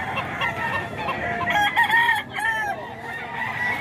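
Rooster crowing outdoors, a drawn-out cock-a-doodle-doo in the middle with a couple of rising and falling calls, moderately near over a background of faint murmur and ambient noise.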